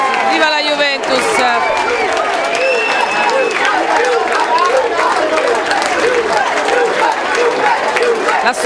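Crowd at a youth football tournament awards ceremony, continuous loud applause and clapping with cheering and shouted voices mixed in, sustained throughout.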